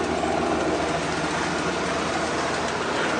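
A vehicle engine idles evenly after starting, giving off a steady, smooth low rumble with no breaks.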